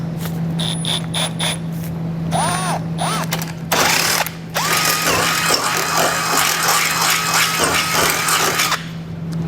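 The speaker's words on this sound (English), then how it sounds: "I'm going to drill out this hole here." An electric drill bores out a hole in the steel frame of a 2015 Ford Taurus while a tow base plate is fitted, a steady close whine rising and dipping in pitch over mechanical rattling and a constant low hum.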